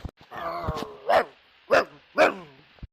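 A crazed dog lets out three sharp, loud barks in close succession, after a whining yelp at the start, with short silences between them.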